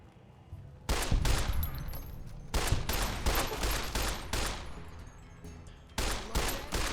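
Rapid gunfire in Fallout New Vegas comes in dense bursts of close, loud shots, one after another with short pauses between volleys and no talking.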